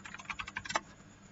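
Quick, quiet clicks of a computer keyboard come in a short run of keystrokes, ending in a single firmer press like an Enter key, in a hushed room.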